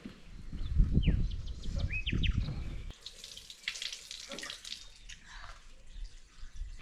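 Water splashes and gurgles out of a bottle being emptied at close range, a steady pouring rush that gives way to quieter trickles and faint outdoor ambience.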